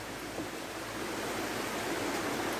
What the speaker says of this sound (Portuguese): Esse é o córrego do Pavão.